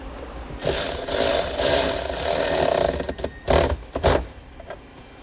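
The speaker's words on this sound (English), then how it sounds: "So again, we can take a 10mm socket. We're going to loosen up the nut." A ratchet with a 10mm socket loosens a nut on a 2018 Dodge, giving several runs of quick, close, rapid clicking, first long and steady, then shorter, broken bursts, with no talking.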